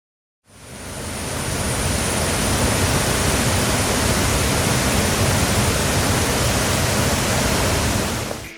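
Thommankuthu waterfall in Thodupuzha roars as a dense, broadband rush of falling water that swells in after a brief silence and holds steady and loud, with no voices.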